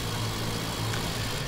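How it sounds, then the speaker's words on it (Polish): A vintage car engine drones in Ford Racing 3, a steady, loud, low-pitched hum with no breaks or revving across the short stretch. "jedziemy samochodem tak zwanym vintage, jest to kategoria samochodów oldschoolowych"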